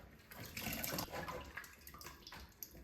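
Pieces of banana stem being washed by hand in water, a quiet splashing and sloshing with small irregular surges that last a few seconds, close and faint.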